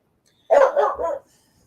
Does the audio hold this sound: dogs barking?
yes